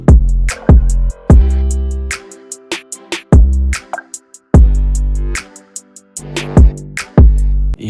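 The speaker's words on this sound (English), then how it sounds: "So I added on these grime sounds from drill beat actually." A loud trap beat pairs heavy sliding 808 bass and kicks with grime-style sounds borrowed from a drill beat, layered over rapid hi-hat ticks in a bouncing repeated pattern.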